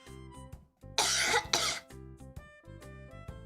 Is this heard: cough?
yes